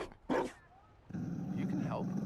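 A dog in Dragon Age Inquisition gives a short bark followed by a low, sustained growl, loud and close, with a voice briefly heard alongside.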